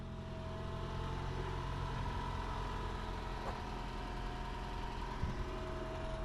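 A steady 2017 Toyota RAV4 2.5 hybrid engine idles with a low, even hum and faint mechanical drone, running alone without any talking.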